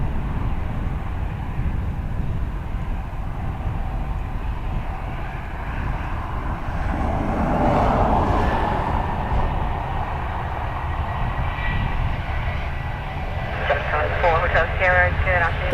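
A Ryanair airliner taking off at Dublin Airport, a continuous jet engine roar that swells toward the middle and stays steady, with talk over it.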